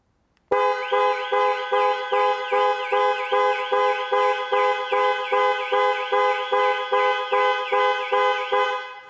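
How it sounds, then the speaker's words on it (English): Panic alarm on a 2021 Jaguar I-PACE electric SUV, the horn blaring in rapid, evenly spaced repeating blasts with a wavering pitch, starting abruptly after a moment of silence and continuing loud and close. "Press for 3 seconds or press 3 times in 3 seconds and the horn will sound and the hazard lights will flash."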